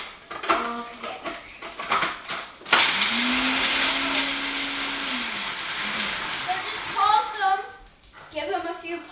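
A food processor whirs through a single extended pulse of several seconds as energy ball ingredients are blended, with a person talking before and after the motor runs.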